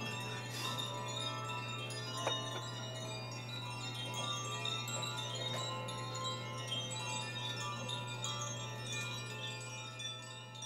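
Koshi chimes ring softly, with a few delicate, shimmering struck tones drifting over a steady low hum. They sound faint and fairly close, with no one talking.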